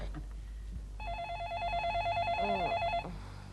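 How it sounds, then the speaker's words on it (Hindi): A telephone rings with a warbling electronic tone for about two seconds, fairly loud, followed by a brief pause and some quiet background sound. "देव फोन उठाओ ना।"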